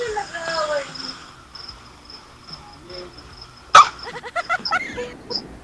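Dogs in a scuffle, a sudden loud yelp or bark burst after a stretch of steady insect chirping and background chatter, followed by several shorter barks and whimpers close by.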